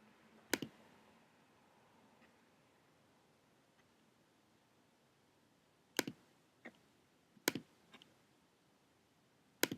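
Sparse computer mouse clicks sound close and crisp in a quiet room, a single click early on, then a scattered run of several clicks and a double click near the end.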